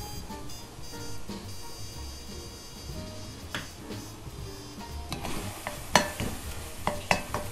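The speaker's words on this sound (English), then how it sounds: "Mix it in here to warm up. And you got some sweet potato empanada filling." Sweet potato empanada filling stirred in a hot pan, with a soft sizzle and scraping, clinking spoon strokes against the pan, fairly quiet and growing busier toward the end, without talk.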